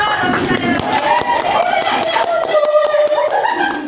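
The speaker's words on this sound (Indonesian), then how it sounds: "Tepuk dulu tangan bersama" A classroom group claps hands together in quick uneven bursts while a voice talks over the claps.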